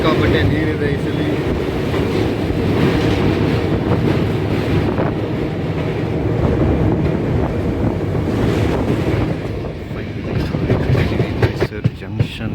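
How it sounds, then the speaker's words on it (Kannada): Train running as it approaches Mysuru Junction in light rain, heard from on board: a loud, steady rumble of wheels and rushing wind that holds for the whole stretch, with no voices. "ಮೈಸೂರು ಜಂಕ್ಷನ್ಗೆ ಇನ್ನೇನು ಟ್ರೈನ್ ಬರ್ತಾ ಇದೆ."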